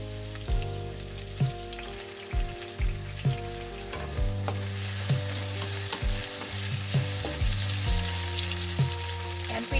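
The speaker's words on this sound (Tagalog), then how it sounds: "Lutuin natin yung isda. Hintayin lang muna natin maluto yan guys." Blue marlin fish fries in oil in a pan, a dense continuous sizzle with a backdrop of steady hum and periodic soft thumps and clicks.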